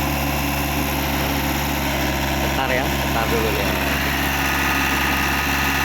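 A Komatsu PC78US excavator engine idles with a steady, loud, continuous drone and vibration throughout, and a person speaks briefly over it.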